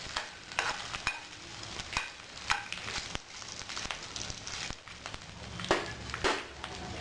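Dry red chillies and garlic frying in a pan for beetroot chutney, a steady close sizzle broken by repeated scraping stirs.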